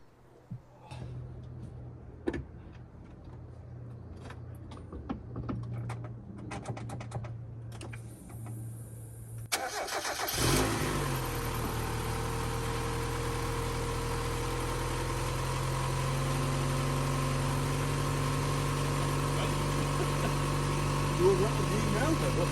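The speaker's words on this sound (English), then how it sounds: "we're filling like a little cold start on the engine and showing the blue smoke coming out the exhaust" A budget sports car engine is cold-started after a few quiet clicks and handling sounds, catching abruptly and settling into a loud, steady idle with a constant low rumble close by.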